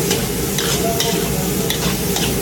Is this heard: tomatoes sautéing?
yes